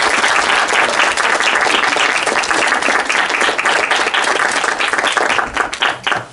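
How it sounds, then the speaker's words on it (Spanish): A workshop audience gives loud, sustained applause for the organizers at a science-teaching conference opening. Dense clapping fills the room close by and fades out in the last second. "les pido que se paren y les damos un aplauso"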